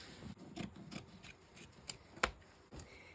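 Scissors snip a piece off a sheet of paper in a crafting session, producing a series of quiet, close, crisp cuts and rustles at an uneven pace, with a couple of sharper clicks.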